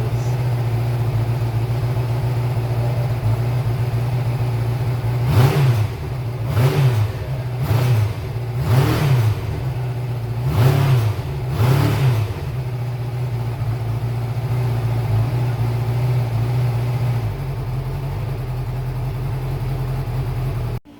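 Motorcycles started for the first time after a couple of months of storage settle into a steady idle. Six quick throttle blips rise above it in a loose rhythm, and then the idle resumes.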